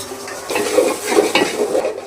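Spice masala for khichdi is stirred and sautéed in a pan, giving a close, soft scraping and gentle sizzle in a few rhythmic strokes with no voices.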